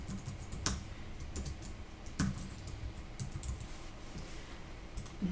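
An email address typed on a computer keyboard, quick close key taps with a few sharper clicks, steady and alone against a faint room hum.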